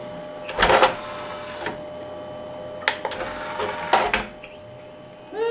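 Modded Xbox disc drive spindle spinning up, a steady faint mechanical whine with several sharp clicks and clunks scattered across it.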